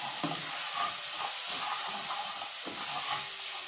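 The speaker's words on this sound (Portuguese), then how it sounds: "Vou deixar essa páprica dar uma fritada aqui nessa cebola e nesse alho." Hot paprika frying with chopped onion and garlic in a pan, a steady close sizzle with soft stirring scrapes throughout.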